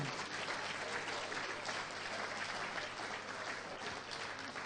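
A crowd applauds steadily, a dense wash of clapping from many hands that holds at an even level throughout without fading.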